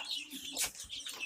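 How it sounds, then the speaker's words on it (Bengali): Native chickens kept in a cage on a balcony give brief close clucks and squawks, a short burst of bird calls with a sharper peak midway. "দেখুন খাঁচার ভিতর থেকে দেখুন মুরগি"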